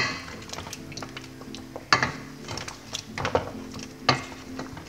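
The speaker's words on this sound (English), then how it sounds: "And then you mix it." A spoon stirs spice powder into oxtail pepper soup in a pot, with irregular close scrapes and clinks against the metal sides and a few louder knocks, no voices.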